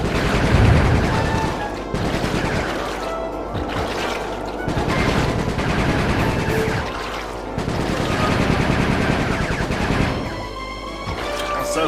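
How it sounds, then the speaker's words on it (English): Rapid gunfire in the Sly Cooper 3: Honor Among Thieves video game, dense bursts of shots and impacts recurring loudly in waves throughout over game music. "Nice shooting, Bentley."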